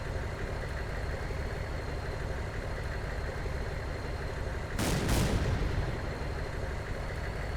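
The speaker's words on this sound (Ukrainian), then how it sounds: "Давайте попробуємо постріляти з цього хрен пойми чого." A steady low mechanical drone runs throughout, interrupted once by a quick double burst of gunfire in the zombie shooter game Battle of Rebels.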